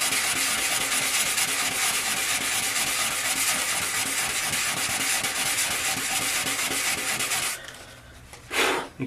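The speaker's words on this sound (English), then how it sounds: "we're going to sand it again. Again, something coarse like 100 or 60 grit sandpaper." Wood being sanded with coarse 100 or 60 grit sandpaper, a continuous loud hissing rasp of rapid back-and-forth strokes that stops near the end, followed by a few brief scrapes.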